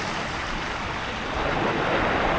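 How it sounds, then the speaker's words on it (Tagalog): Strong sea waves wash and rush around a fishing boat, a steady broadband surf roar with wind noise on the microphone, building slightly toward the end with no talk. "Medyo malakas yung alon ngayon dito."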